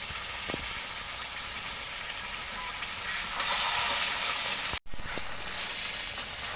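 Biryani ingredients fry in a pan with a steady, close hiss, with faint stirring and a brief break partway through.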